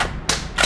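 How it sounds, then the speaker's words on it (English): Two sharp, dry clicks about a third of a second apart, with no shot following, from a budget Palmetto State Armory AR-15 build-kit rifle failing to fire at the range. "Failure to fire."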